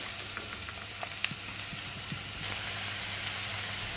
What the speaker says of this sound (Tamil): இப்போ நாங்கள் இந்த பீட்ரூட் நல்லா வதங்கணும் நல்லா பொரியிற மாதிரி வதங்குற வரைக்கும் நாங்கள் இதை விட போகிறோம்